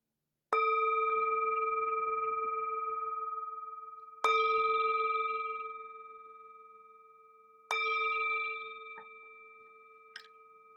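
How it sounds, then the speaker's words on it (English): A meditation bell is struck three times, each clear ring lingering and slowly fading, with a brief faint chime near the end. "The sound of this beautiful bell returns us to our body, to our true home."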